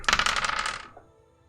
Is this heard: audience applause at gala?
no